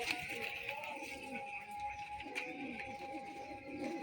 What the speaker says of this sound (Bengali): এই কবুতরটা আমাদের বাড়ির কবুতর